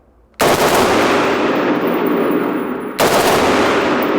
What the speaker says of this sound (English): On you, when you're ready, a burst fire.